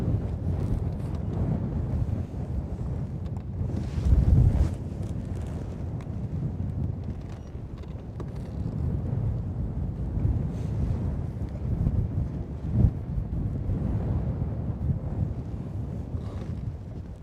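Steady wind buffets the microphone outdoors on a bass fishing boat, a continuous low rumble and rush with occasional stronger gusts and no talking.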